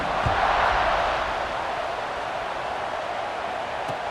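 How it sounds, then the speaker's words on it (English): A football stadium crowd buzzes after a touchdown. A broad, steady roar of many voices fills the air, a little louder at first and then settling into a constant, distant-sounding wash. "this crowd is buzzing after that last score"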